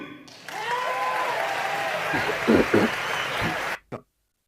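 Members of the US Congress applauding a speech, a full-chamber round of steady, dense clapping with a few louder bursts and muffled voices mixed in, ending abruptly.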